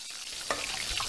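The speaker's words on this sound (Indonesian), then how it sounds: "Apa yang kau goreng tu? Telur ikan." Fish roe frying in a pan gives a steady hiss and sizzle with a brief crackling burst partway through, close and fairly quiet.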